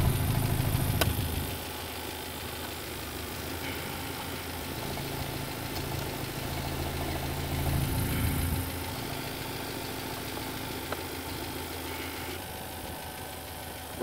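A BMW 316i Sport Coupe petrol engine idles quietly, a steady low hum with faint mechanical ticking that holds even throughout, heard up close.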